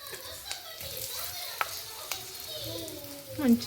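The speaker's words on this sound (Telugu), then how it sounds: "ఇప్పుడు ఆయిల్ హీట్ అయినాక కరివేపాకు, ఇప్పుడు కాకరకాయ వేసుకోవాలి." Bitter gourd and curry leaves hitting hot oil in a pan, a soft, steady sizzle with a few sharp crackles and clinks from stirring, close but quiet, with faint voices in the background.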